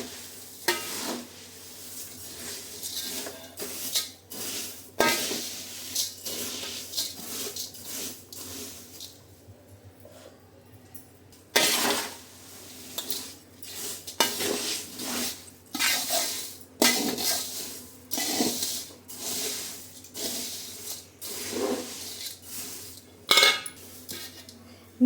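Utensil scraping and clinking against a pan while food is mixed evenly, repeated bursts of stirring with brief pauses, close and fairly loud with no talking.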